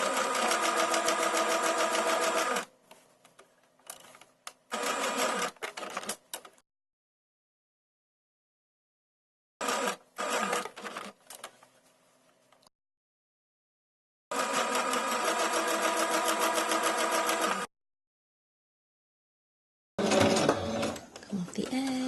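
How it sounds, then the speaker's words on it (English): A sewing machine back-stitches fabric for a stuffed toy sloth, running in several close, whirring bursts of a few seconds each, broken by silent pauses. "I'm going to back stitch to keep it safe."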